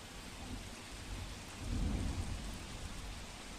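Heavy rain pours steadily over Ahmedabad with deep thunder rumbling underneath, swelling louder near the middle before settling back into a dense, continuous downpour; no voices.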